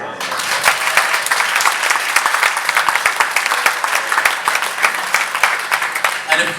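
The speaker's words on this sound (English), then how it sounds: "So a round of applause for everybody." Sustained applause fills a cycling club's 2018 awards night in South Normanton, Derbyshire, a dense, steady roar of many hands clapping close by for over six seconds before tapering at the end.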